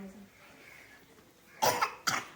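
A child coughs twice in quick succession, close and sharp, after a stretch of quiet background murmur.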